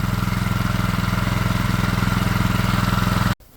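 A small engine driving an alternator runs at a steady idle with an even, rapid firing pulse, close and loud, then cuts out abruptly near the end.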